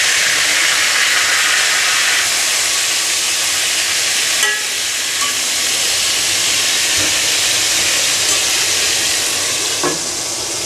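Eggplant pieces rubbed with turmeric and salt frying in hot oil in a pan, a loud, steady close sizzle with occasional faint clinks.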